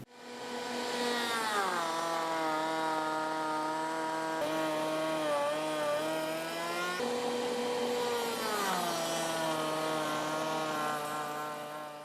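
Router fitted with an Infinity locking miter bit cutting wood, a steady loud high-pitched whine with shifting pitch as the bit loads and unloads through the cut, continuous and close.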